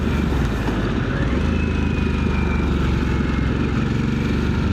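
A 2025 Harley-Davidson Sportster S rides along with a loud, steady engine rumble mixed with rushing wind, close and continuous with no talk.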